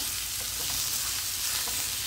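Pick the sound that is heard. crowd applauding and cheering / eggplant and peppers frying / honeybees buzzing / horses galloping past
eggplant and peppers frying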